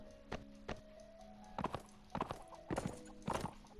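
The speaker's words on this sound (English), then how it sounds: "So they got some horses." Horses in the video game Mount & Blade: Warband clip-clop through a village. The hoofbeats come as quiet, uneven clusters of sharp knocks, with faint tonal ambience underneath.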